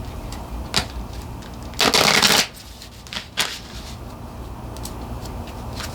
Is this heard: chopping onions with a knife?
no